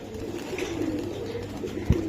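Iranian highflyer pigeons coo softly and continuously at close range, with one brief louder thump near the end.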